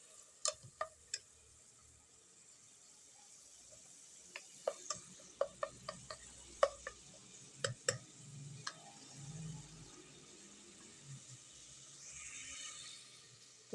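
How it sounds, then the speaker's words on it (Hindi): Tomatoes and mutton cook in a karahi as a soft, low sizzle runs beneath a scattered series of sharp spoon clicks and scrapes against the pan from stirring. "इसमें अब हम ये टमाटर ऐड कर लेंगे।"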